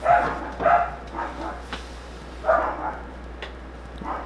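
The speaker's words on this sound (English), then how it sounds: "Dog's barking upstairs." A dog barks upstairs, a few muffled, slightly distant woofs in uneven bursts separated by short pauses, with a quiet steady hum beneath.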